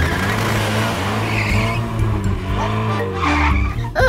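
A cartoon car skids noisily, a steady loud engine roar with tire squeal that swells near the end, no voices over it.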